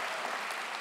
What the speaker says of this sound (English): Class of 2023, give yourselves another round of applause.